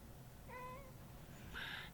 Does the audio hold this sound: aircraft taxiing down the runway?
no